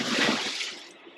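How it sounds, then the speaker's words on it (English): Hot water poured out of a pan into a sink, a short splashing gush that tapers off within about a second, close and fairly loud. "we're just gonna dump the hot water"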